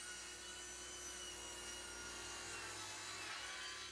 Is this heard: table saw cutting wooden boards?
yes